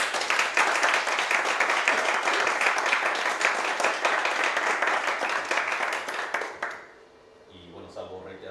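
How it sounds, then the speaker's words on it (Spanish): An audience at a translators' organization presentation applauds the speaker with dense, sustained clapping for several seconds, which stops abruptly and gives way to a quiet room and faint talk. "Un aplauso, por favor, para nuestra ponente."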